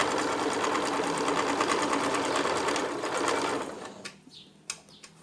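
Domestic sewing machine stitching fabric for a cloth toiletry pouch, running in a steady, loud continuous whir for about four seconds before stopping, then a few brief clicks and handling knocks as it falls quiet.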